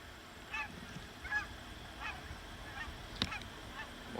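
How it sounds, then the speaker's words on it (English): Geese flying over from a lake honk several times at a distance, the faint calls spread out over steady outdoor ambience, with one sharper sound near the end. "More geese flying"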